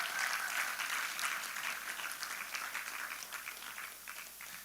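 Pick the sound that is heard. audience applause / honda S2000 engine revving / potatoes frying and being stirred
audience applause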